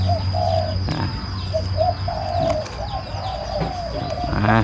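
A spotted dove's soft repeated cooing calls over a steady low hum and background noise, with a few faint chirps mixed in.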